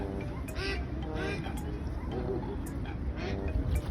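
Ducks quack repeatedly in short bursts at close range, mixed with other bird calls and background chatter.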